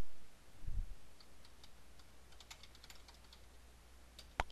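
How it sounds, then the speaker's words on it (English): Soft, scattered keystrokes on a computer keyboard tap irregularly while text is typed into an Excel spreadsheet, faint and close in a quiet room, with one sharper click near the end. "Notice I'm typing up here."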